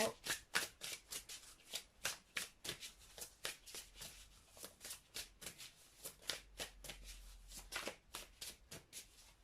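Tarot cards being shuffled, a rapid run of crisp riffling bursts repeating in an even rhythm, close and fairly quiet, with no voices.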